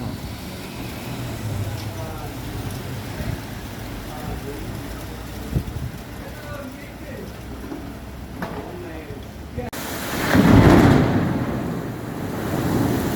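Rain pours during a thunderstorm with frequent lightning, a continuous hiss broken near the end by a loud, close, low rumble of thunder.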